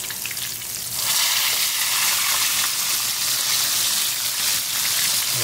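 Yellow spine unicornfish frying in a hot pan, a loud, steady crackling sizzle of oil that swells after a brief quieter start and holds up close with no talking.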